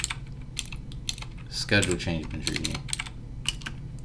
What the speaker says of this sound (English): As I'm typing this up.